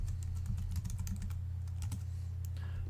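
Close, quiet typing on a computer keyboard, a steady run of light key taps with brief pauses, heard without any voices.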